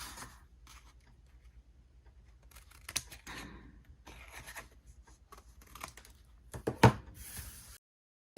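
Scissors or a blade cut a square out of cardboard for a secret compartment box, giving scattered short scrapes and snips near and fairly quiet, with a louder sharp crunch late before the sound stops.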